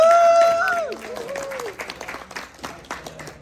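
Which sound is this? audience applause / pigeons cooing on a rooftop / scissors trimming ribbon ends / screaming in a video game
audience applause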